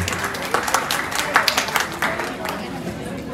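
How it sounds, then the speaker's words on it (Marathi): Applause for the winning dance pair at a twins' birthday party with haldi dancing: a dense wash of many hands clapping, steady and moderately loud, mixed with crowd chatter and babble throughout. "पहिला नंबर यांच्यासाठी जोरदार टाळ्या झाल्या पाहिजे"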